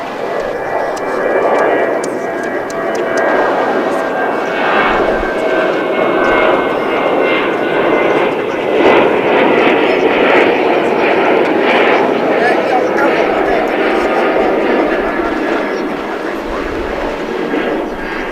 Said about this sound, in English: Here comes American Airlines Flight 2204, an Airbus A321 arriving from Denver, Colorado.